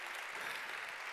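An audience at a Green party federal delegates' conference claps steadily, a dense, even wash of applause filling the short moment without a break.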